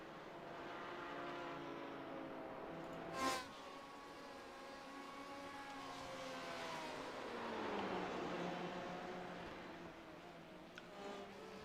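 GTE and GT4 race cars lap Oulton Park, their engines droning steadily and rising and falling in pitch as they brake and accelerate through corners, with one sharp transient partway through.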